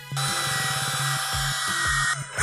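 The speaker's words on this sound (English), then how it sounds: "I'm going to go ahead and widen it up with a drill" A power drill widening a hole, held close and loud, its steady high whine running continuously with stuttering load changes as the bit bites, no talk over it.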